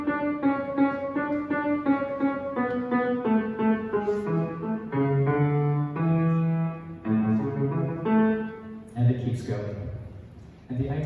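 Piano improvisation over a bass line by Francesco Durante: steady sustained notes and chords moving stepwise over about eleven seconds, full and fairly loud, with no talking.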